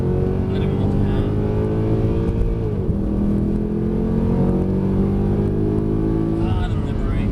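A Mercedes accelerates on a track, its engine note climbing in long rising sweeps, dipping briefly and climbing again, loud and close from inside the car, with someone talking over it.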